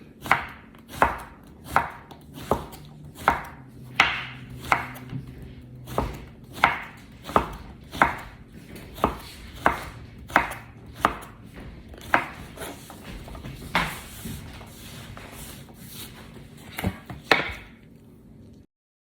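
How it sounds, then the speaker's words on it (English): A knife chopping food on a cutting board in a kitchen, a long run of evenly spaced sharp thwacks about twice a second, close and clear with no talking. "Cut it in quarters. And then cut it down."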